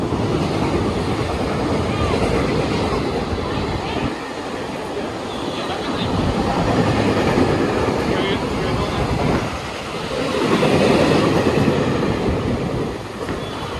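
Cargo train rumbling past up close, a loud steady roar of wheels and rattling wagons with surges in intensity as cars go by, voices faintly under it.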